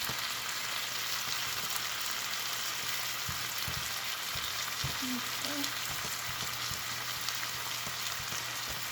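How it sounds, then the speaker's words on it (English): Peppers and onions frying for a chicken Philly cheesesteak, a constant close sizzle with scattered soft stirring taps and a low steady hum underneath. "So I can definitely smell those peppers and onions cooking."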